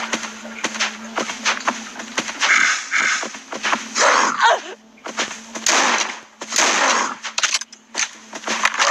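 In the video game Death Park 2, rapid gunshots crack out in dense bursts over a steady background hum, sharp and loud, with brief gaps between volleys.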